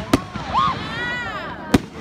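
Two sharp firework bangs at a high school graduation, one near the start and one near the end, with whistling, crackling trails between them and voices talking in the background.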